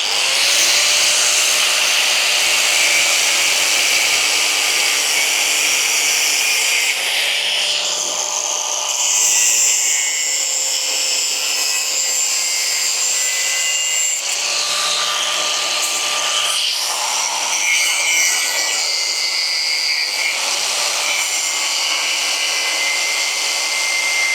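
A power tool cuts steadily through the top of old Raleigh bicycle handlebars and down into the bolt, a loud, continuous whining grind that runs without a break for about twenty-four seconds, shifting pitch slightly as it bites.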